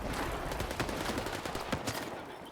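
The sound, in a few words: gunfire killing a fire poltergeist in video game Stalker 2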